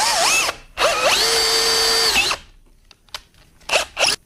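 A power drill boring an 8.5 mm hole in wood: a loud whine ramps up and holds for a second or so, then short bursts of drilling follow, close up with no talk.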